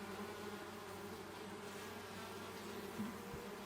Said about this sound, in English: a lot of bees that look really bored